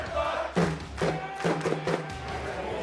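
Hockey arena crowd at a Tampa Bay Lightning game, fans cheering while foam noodles thump against the rink glass in a quick run of four or five dull knocks amid the roar.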